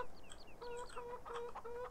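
Chickens cluck and chirp in the farm game Farming Simulator 17, a few quick, faint, distant calls over a soft background hum, with no talking.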